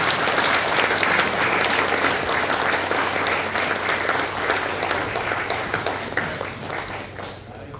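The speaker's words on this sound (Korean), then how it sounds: "김병원 전 회장님을 뜨거운 박수로 맞이해 주시기 바랍니다" Warm, sustained applause from a lecture audience in Naju, South Korea, welcoming a former National Agricultural Cooperative Federation chairman; dense, steady clapping fills the room throughout, tapering slightly near the end.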